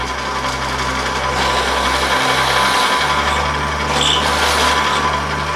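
Steady, loud power drill whine as a 3/8 inch Forstner bit bores into wood for cornhole boards, a continuous hum with no talk.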